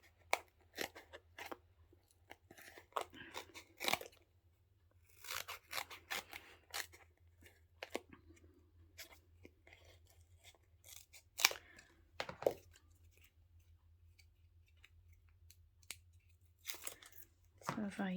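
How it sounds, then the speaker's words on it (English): Scissors snipping through foam adhesive sheet for a paper card, repeated sharp close cuts in irregular bursts with crinkling between them and quiet pauses. "We'll just cut a few pieces up so that they fit there."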